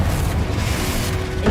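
The Confringo blasting spell in the video game Hogwarts Legacy explodes as a loud, deep boom that rolls on briefly and stands alone.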